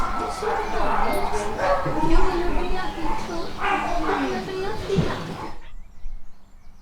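Dog at an animal rescue barking and whimpering in yips and whines, fairly close and loud for most of the stretch with voices mixed in, then dropping off sharply near the end.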